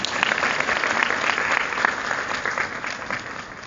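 Audience applause fills a room at a one-day writing class, a dense, steady clapping that holds for several seconds and fades slightly toward the end.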